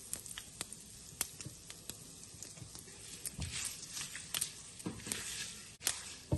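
Chana dal, urad dal, mustard seeds, cumin and dried red chillies frying in hot oil for a tempering, with quiet scattered crackles and pops and faint sizzling at a moderate distance.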